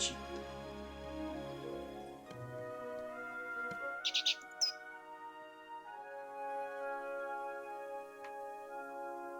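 In The Book of Unwritten Tales 2, a bird gives a few quick, high chirps at a moment amid quiet ambient game music, the calls brief and fairly close over the soft background.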